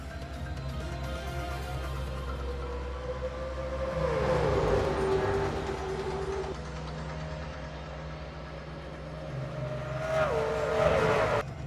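Race cars lapping Rockingham in a racing video game, engines droning steadily with two louder swells as cars pass close by around the middle and the end of the clip.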